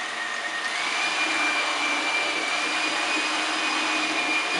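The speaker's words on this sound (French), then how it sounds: "Maintenant, battez vos blancs en neige." An electric mixer whips egg whites to stiff peaks for a chocolate-vanilla cupcake recipe, a constant high whirring drone with a faint whining tone, steady throughout and without talk.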